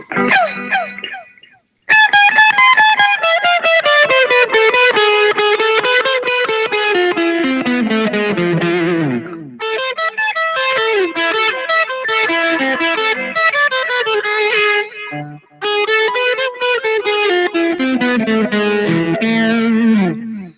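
An electric guitar run through a Vox saturator distortion plays the melodic main lick: loud, sustained, saturated lead notes in fast flowing phrases with two brief gaps.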